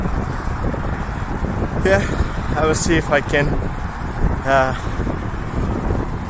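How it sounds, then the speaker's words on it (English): Strong wind roars into the microphone on a road bike commute through a snowstorm, a constant low buffeting rush while a rider speaks over it. "It's also very windy."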